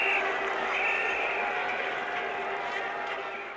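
A cricket crowd applauds and cheers at the 1975 World Cup final trophy presentation between Australia and West Indies, a broad, steady, distant roar of clapping that slowly fades, with a commentator's voice over it.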